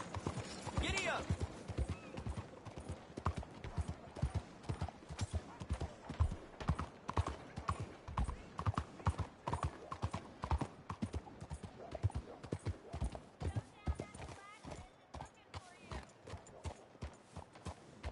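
A horse gallops in the Red Dead Redemption 2 video game, with continuous rhythmic hoofbeats thudding in quick succession and a brief whinny early on, over a quiet ambient background with voices talking.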